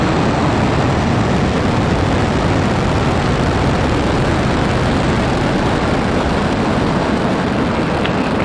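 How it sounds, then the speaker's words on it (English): A SpaceX Falcon 9 rocket lifts off from SLC-40 at Cape Canaveral with a loud, continuous broadband roar of its engines, steady and dense throughout with no voices. "Ignition and liftoff. Go Falcon, go Thuraya."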